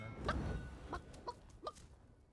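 Short clucks from a chicken in a shooting video game: four or so brief, close-sounding bursts spread over about two seconds, with a low rumble of background noise underneath.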